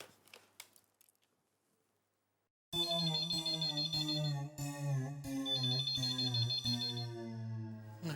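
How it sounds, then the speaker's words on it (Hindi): Electronic intercom ringing in a home setting, a loud sustained tonal ring with repeated pulses that begins abruptly after near silence and continues steadily to the end. "इंटरकॉम।"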